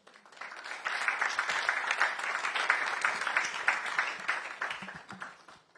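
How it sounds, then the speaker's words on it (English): An audience at the NSMQ 2023 national science and maths quiz launch breaks into applause, a dense wash of many hands clapping that swells quickly, holds for several seconds, then tapers off. "Look at how you are clapping."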